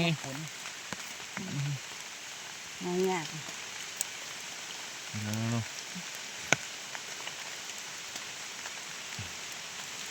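Rain falls steadily on the ground while wild mushrooms are being gathered near home, a soft, continuous patter with occasional sharper drops, under brief bursts of nearby talking.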